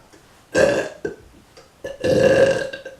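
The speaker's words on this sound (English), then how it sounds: "Yeah, I gotta get all those burps out" A man belches loudly twice in a row as part of a Shrek impersonation: a short burp, then a longer drawn-out one, close up with no talk.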